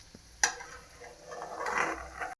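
Peanuts go into hot oil in a pan: a sharp clank, then a soft sizzling hiss that swells and fades, close and fairly faint.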